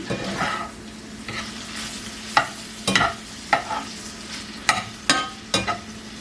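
Sausage fries in a pan, a continuous sizzle punctuated by sharp scraping and tapping strokes of a utensil every second or so, close and fairly loud with no talk.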